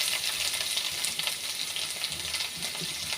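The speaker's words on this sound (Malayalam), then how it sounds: "ഒരു തണ്ട് കറിവേപ്പിട്ട് ഞാൻ ഇനി നമുക്ക് ഈ സവോള ഇട്ട് വരച്ച് കൊടുക്കാം." Chopped onion and a sprig of curry leaves fry in hot oil in a pan for a jackfruit seed and drumstick thoran, giving a steady, close, crackling sizzle with no talk.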